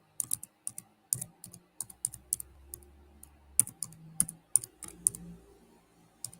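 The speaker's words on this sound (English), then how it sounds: "Don't laugh at how I'm typing." Someone types on a computer keyboard with irregular bursts of sharp, close key clicks and brief pauses between them, no voices present.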